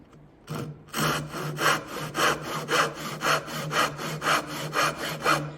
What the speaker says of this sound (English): we're gonna try the dovetail saws with universal teeth, and first try cross cutting